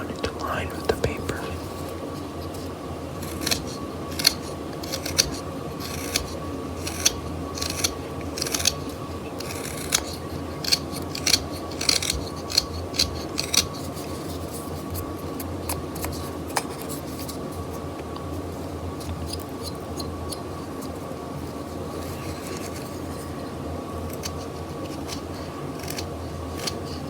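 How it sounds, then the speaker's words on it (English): Hand carving of a wooden skull, roughing out the back with a blade: a long series of dry scraping and slicing strokes, close and crisp, irregularly spaced over a steady background hiss, with soft whispered talk. "now I'm going to continue with some roughing out of the back of the skull"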